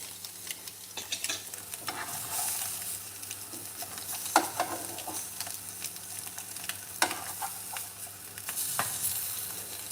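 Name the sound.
frying boiled eggs for egg curry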